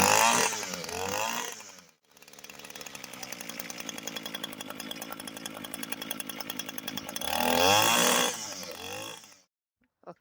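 Small two-stroke engine of an Echo SRM 230 string trimmer idling until it runs out of fuel, a close buzzing putter with revs rising at the start and end, then cutting out to silence.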